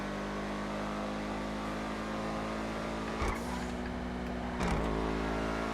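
A racing car in the GTA FiveM video game hums with a steady loud engine drone that rises slightly in two short bursts of revving.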